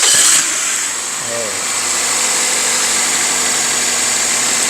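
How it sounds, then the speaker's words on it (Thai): A Toyota Altis 1.6 E automatic car engine starts with a brief loud burst, then settles into a steady, even idle hum that runs without pause. "เดี๋ยวสตาร์ทฟังเสียงเครื่องยนต์กันนะครับผม"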